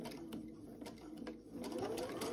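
A sewing machine runs steadily while stitching a quarter inch seam, with a continuous close whirring motor and rapid needle rhythm, and the hum rises slightly toward the end.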